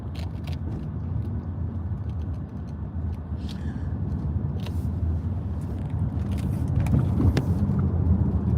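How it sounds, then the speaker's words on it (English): A car drives along side streets, its road rumble and engine noise steady and close from inside the cabin, with scattered clicks and knocks throughout. "I still have roughly 5 miles of side street driving if I want to stay off of traffic"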